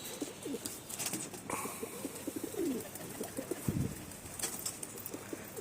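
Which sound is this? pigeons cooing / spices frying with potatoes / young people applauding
pigeons cooing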